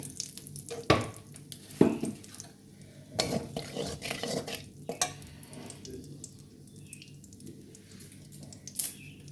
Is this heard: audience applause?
no